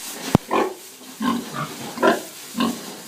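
Piglets feeding give a string of short, close grunts at a steady uneven rhythm, with one sharp click or knock near the start.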